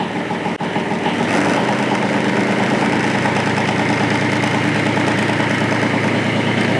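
A small Kubota F-Series mower engine roars steadily at high revs, loud and close, holding a constant droning pitch throughout.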